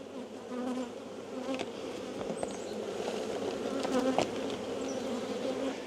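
A dense swarm of honey bees hums steadily nearby at a hive, with individual insects buzzing past now and then over the continuous drone.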